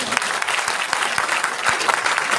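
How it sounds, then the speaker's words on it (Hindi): Steady audience applause fills a short stretch at a DTM King group gathering in Gurugram: dense, even clapping from many hands, close and loud throughout with no clear voices on top. "ताली बजाइए।"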